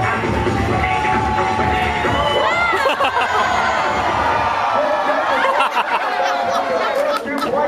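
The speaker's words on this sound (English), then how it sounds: "Cheer on the man out here, everybody." Crowd at a timber sports log rolling show cheering and chattering, with laughs and whoops mixed into a dense murmur while an announcer talks over it, close and lively throughout.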